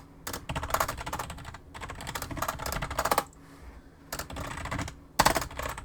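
Password keys tapped out on a computer keyboard in quick bursts of close, crisp clicks, broken by short pauses between runs of typing.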